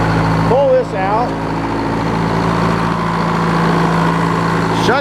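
A sawmill engine idles at low speed, giving a steady, close, droning hum that holds an even pitch throughout the few seconds, with a brief voice-like sound near the start.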